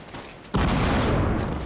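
Gunfire in Fortnite hammers a wall with a sudden, loud, dense burst of rapid shots that keeps going without a break after a brief quieter lead-in.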